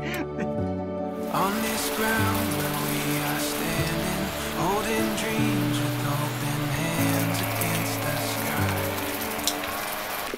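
Rain falling on a camper van at Plaine des Palmistes on Réunion, a steady dense patter heard throughout under a layer of music.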